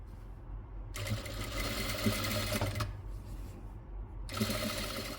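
A sewing machine stitches the layered neck of a nighty in two loud, steady whirring runs, close up, with a short pause between them and no talking.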